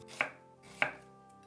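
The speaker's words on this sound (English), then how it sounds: "Mince 400 grams of onions." Two sharp knife chops on a cutting board while mincing onions, evenly spaced about half a second apart, close and crisp with nothing else heard.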